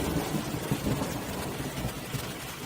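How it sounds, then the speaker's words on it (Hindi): Heavy rain roars steadily with low rumbling thunder underneath, a dense continuous wash of storm noise with no voices, from a Hindi cartoon. "बिजली कड़कती है, भारी बारिश होती है"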